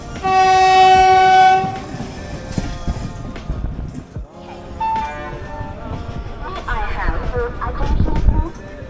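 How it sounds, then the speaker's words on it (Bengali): A Jammu Tawi express train pulls into Ayodhya Dham junction station, opening with a long loud horn blast, then rumbling and clattering of the carriages with squealing brakes, with voices heard in the background. "ট্রেন মোটামুটি 7টা 10 থেকে 12 মিনিটে মানে অযোধ্যা ধাম জংশন স্টেশনে প্রবেশ করলো।"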